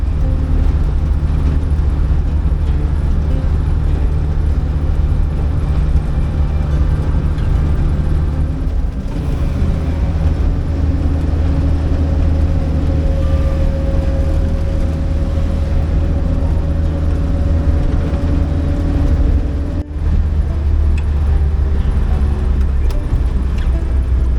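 An angkot minibus drives between Borobudur and Magelang, its engine a steady close drone with road rumble throughout, a brief dip partway and no talk.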